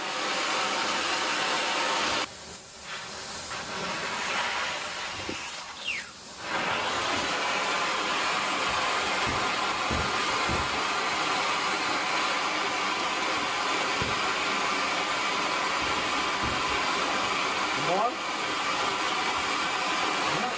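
A steady, loud hissing roar comes from a torch heating a bent John Deere quick attach loader arm across a line. It runs unbroken for the whole stretch, with a few brief clanks in the background.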